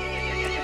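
A horse neighs in the game Resident Evil Village, a single loud, strained whinny with a tonal, wavering quality, short and close.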